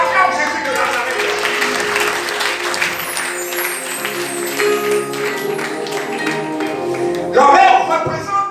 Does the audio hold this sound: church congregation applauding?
yes